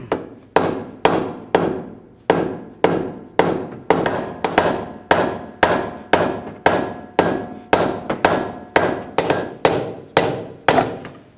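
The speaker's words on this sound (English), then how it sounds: "I just wanna separate the ball joint from the knuckle." Around twenty sharp, evenly paced metal hammer blows ring out close and loud as a ball joint on a 2011-2015 Chevy Cruze is knocked free from the steering knuckle.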